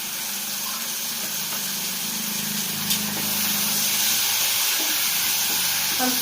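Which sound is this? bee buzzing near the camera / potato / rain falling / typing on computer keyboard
potato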